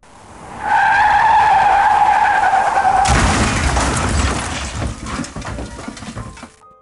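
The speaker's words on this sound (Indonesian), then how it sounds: "Lalu tiba-tiba mobil itu terguling ke kiri." A car skids with a long, loud tire squeal, then crashes and rolls over in a heavy burst of impact and scraping noise that fades out, a dramatized sound effect with no voices.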